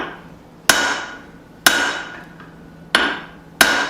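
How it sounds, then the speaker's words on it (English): Hot steel struck on an anvil while a small claw hammer is forged, four sharp ringing hammer blows at an uneven pace, each decaying briefly, close and loud. "I'm going to start to create a set down here on the edge of the near side of the anvil"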